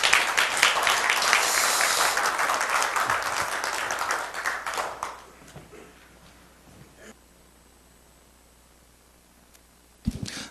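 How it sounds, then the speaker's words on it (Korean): An audience applauds after a church lecture, with loud sustained clapping that fades over about five seconds, then near quiet before a short burst of sound at the end. "다시 한번 박수 한번 쳐드리겠습니다"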